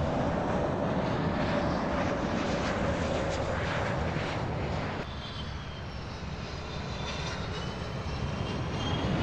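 A Boeing airliner passes overhead at Fort Lauderdale airport, a loud broad jet roar that holds steady and then eases slightly partway through, with no talk.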